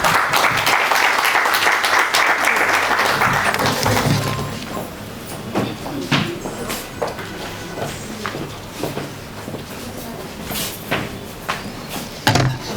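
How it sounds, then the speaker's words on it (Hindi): Applause from an audience welcoming a vice chairperson onto a stage. It is loud and dense for about four seconds, then thins to scattered claps and a few knocks. "हम सभी जोरदार तालियों के साथ उनका स्वागत करेंगे"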